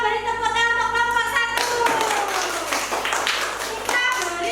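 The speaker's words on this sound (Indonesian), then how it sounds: "Kita beri tepuk tangan untuk kelompok" A class of children claps for a group in an Indonesian school lesson, a rhythmic burst of hand clapping that starts partway through, preceded by children's voices, with young voices continuing beneath the claps.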